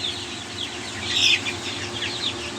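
High, thin cheeping from a group of young chickens over a steady low hum, with one brief louder peep near the middle.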